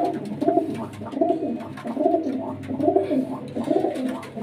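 Pigeons coo in a steady rhythm of about five soft, rolling calls, close and moderately quiet, with no talking.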